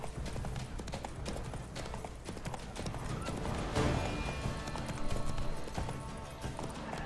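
Horse hooves clip-clop in a steady galloping rhythm in The Witcher 3: Wild Hunt, with a whinny rising over the dense, continuous game soundscape; no one speaks.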